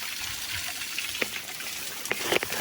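A waterfall on a Kanja Malai hiking trail flows with a steady broadband rush of water, spattered with brief splashes and drips throughout.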